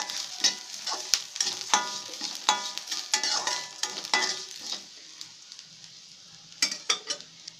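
A spoon scrapes and clacks repeatedly in a pan as turmeric, chili powder and salt are stirred into sizzling moong dal, with rhythmic stirring strokes over a steady frying hiss.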